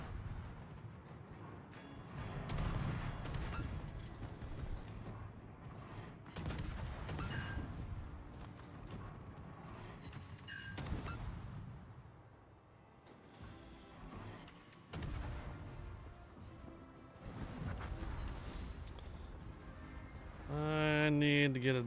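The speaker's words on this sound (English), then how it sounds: "Secondary fire for Americans is just the shell case hitting something while shooting" Secondary guns on American warships fire in a naval battle game, a dense barrage of overlapping booms and cracks rolling continuously at fairly low level, with a brief musical chime near the end.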